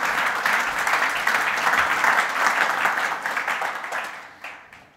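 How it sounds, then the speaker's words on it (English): Sustained applause from a conference keynote audience fills the room, steady and dense for about four seconds before thinning into scattered claps and fading out. "stay in that mood to clap"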